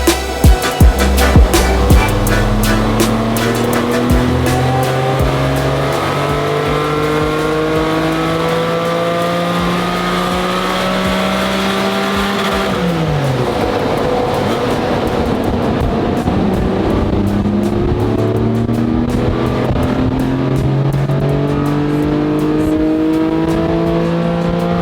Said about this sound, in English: So we've got the car on the dyno now, we're going to run it up stock